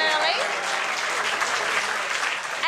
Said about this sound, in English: Round of applause for Jamie, who's already come in early.